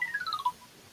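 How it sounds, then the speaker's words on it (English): A phone rings in a short electronic melody of a few falling tones, moderately loud and close, and then quiets. "Here's this phone going off."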